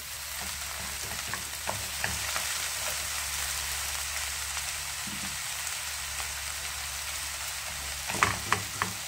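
Spinach leaves frying in a pan for a stuffed layered flatbread, giving a steady close hiss and crackle of sizzling oil with a few sharper pops near the end, no voices.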